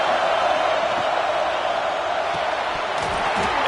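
Steady roar of a stadium crowd at a college football game against UTSA, a dense wash of cheering and noise that holds loud throughout, with a few faint thuds.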